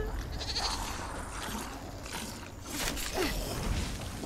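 Goat in The Elder Scrolls Online giving short, near bleats amid light game ambience and a few swishing movement sounds, with no speech.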